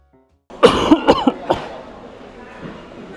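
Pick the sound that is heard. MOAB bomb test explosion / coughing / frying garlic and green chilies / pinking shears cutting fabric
coughing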